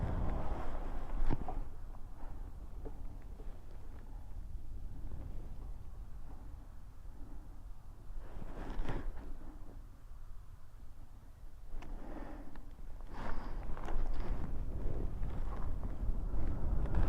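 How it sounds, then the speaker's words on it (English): Wind rushes and buffets against the microphone on a test ride of a 2023 Lankeleisi RV800plus e-bike outdoors, a loud continuous roar with stronger gusts swelling now and then, no voices. "it is a lovely day for a test ride, apart from this bit of wind I can feel"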